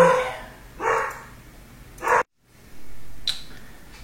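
A pet dog indoors barks in a few short bursts, fairly close, with quiet pauses between the barks and no talking over them.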